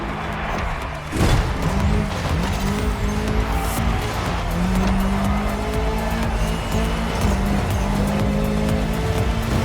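Rally car racing on dirt in The Crew Motorfest video game, a loud, continuous engine roar with shifting revs, tire squeal and skidding, plus a sharp impact-like burst near the start.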